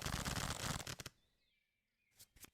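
A large deck of playing cards is shuffled in a game's sound effect: a loud burst of rapid riffling fades into a near-silent pause, then a few short card flicks follow.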